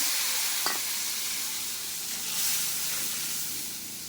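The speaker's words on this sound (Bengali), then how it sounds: "মশলাটা একটু ভাজা ভাজা হতে দেবো" Ground spice paste frying in oil for a banana-stem ghonto makes a close, steady sizzling hiss that swells briefly midway, with one sharp utensil tap near the start.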